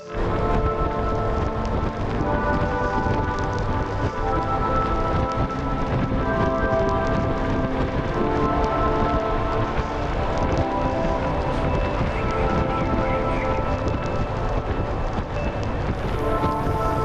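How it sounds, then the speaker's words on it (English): Rain falling, heard from inside a truck cab, a loud steady patter and drumming on the roof continuing throughout, with a low rumble beneath and no talking. "I am currently in the truck trying to edit. Got a 3-hour load ahead of me. It's raining."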